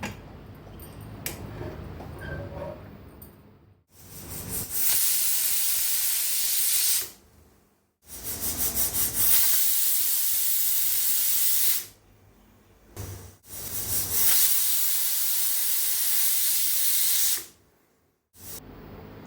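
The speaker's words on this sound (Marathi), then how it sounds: "चांगलं 2-3 शिट्या करून घेऊया, 3 शिट्या करून घेऊया" Loud hissing bursts of steam from a pressure cooker cooking sprouted moth beans, four long whistling blasts separated by short pauses, close and alone.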